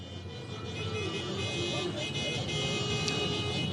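Car horns blare in a noisy drivers' street protest in São Paulo, a continuous tangle of overlapping honks over traffic rumble, with a faint voice in the background.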